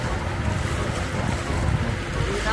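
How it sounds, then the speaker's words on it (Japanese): Sea wind blowing along the ocean shore in Belize City, a steady broadband rush with low buffeting rumble against the microphone, constant and fairly loud with no talking. "気持ちいいね、海風が。"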